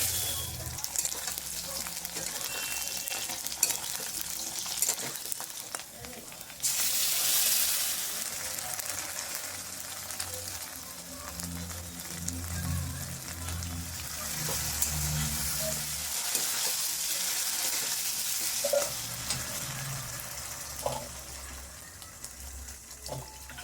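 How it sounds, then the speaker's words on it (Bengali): Oil sizzling and crackling steadily in a pan as cauliflower fries, with stirring scrapes and clatter now and then over a constant frying hiss. "বেগুন ভাজাটা নামিয়ে ফুলকপিগুলো ভেজে নিচ্ছি"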